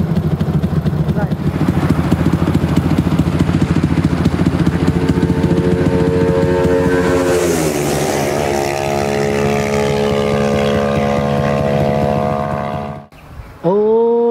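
A Yamaha X1R motorcycle converted to fuel injection idles and then revs, its steady engine drone rising in pitch midway and cutting out briefly before restarting near the end, loud and close.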